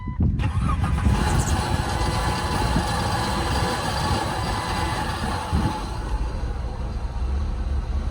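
A Plymouth Road Runner's engine cranks and catches just after a new O2 sensor is fitted, then settles into a loud, steady idle close by for several seconds.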